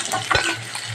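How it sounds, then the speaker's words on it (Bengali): Catla fish pieces frying lightly in hot oil in a pan, a close, steady soft sizzle with a brief scrape or stir near the start. "সেইভাবে মাছটাকে ভেজে নেবো হালকা করে। মাছটা আমি হালকা করে ভেজেছি"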